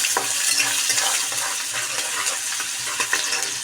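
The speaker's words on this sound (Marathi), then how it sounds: "कांदा भाजतोय" Onion frying in hot oil with green chillies for zunka, a steady close sizzle with soft stirring scrapes and faint utensil knocks throughout, no voices.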